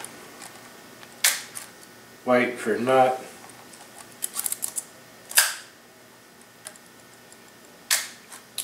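On a Canonet QL17 rangefinder film camera, the advance lever is cranked with a brief ratcheting burst, and scattered sharp mechanical clicks follow nearby; someone speaks briefly between them.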